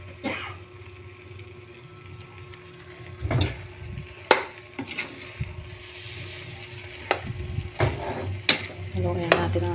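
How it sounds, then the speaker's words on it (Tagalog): Purple biko, a sticky rice cake, being stirred in a pan: irregular scraping and knocking strokes that rise and fall unevenly, with sharper clacks now and then, close up and without voices. "Haluin natin ang ating biko guys."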